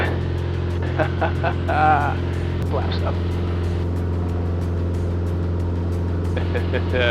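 A Mooney light aircraft's engine drones steadily at full power as it climbs out after takeoff, a constant loud cabin hum with tonal harmonics beneath brief intercom voices.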